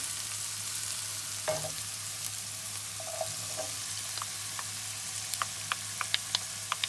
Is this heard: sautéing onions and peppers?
yes